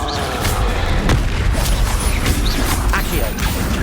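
Confringo blasting spell in Hogwarts Legacy combat, a dense run of loud booming impacts and crashes in quick succession amid battle noise, with voices calling out.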